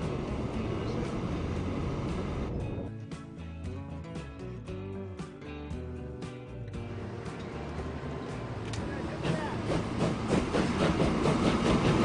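A train rolls along in the video game Transport Fever 2, a steady rumbling run of wheels and carriages that thins briefly midway, then swells louder again toward the end, with no voices.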